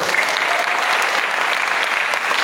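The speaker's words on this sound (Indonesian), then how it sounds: "Tepuk tangan buat beliau." An audience applauds a guest film producer during a visit to an Islamic boarding school, producing a steady, even wash of many hands clapping, close and continuous with no gaps.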